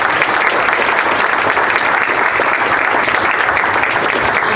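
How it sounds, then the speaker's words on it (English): A loud, sustained round of applause from a crowd at an entrepreneurs' event on Cape Cod, with dense, even clapping throughout. "I just want to give a round of applause for every one of the entrepreneurs that came tonight"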